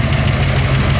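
1962 Chevrolet Bel Air with a 409 V8 rated at 340 horsepower and stainless steel exhaust, running with a loud, steady low rumble and rapid pulsing throb, close up and alone.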